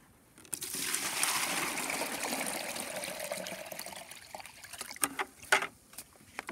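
Water sloshes and trickles as it is poured into a one-gallon container outdoors, a steady close splashing that thins out into a few scattered drips and clunks near the end.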